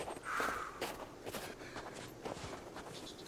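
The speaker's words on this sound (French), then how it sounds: "j'entendais des bruits de pas derrière moi, mais c'est Kelvin" Footsteps of the companion Kelvin in Sons Of The Forest, a run of soft, fairly quiet steps trailing close behind in a game scene with steady background ambience.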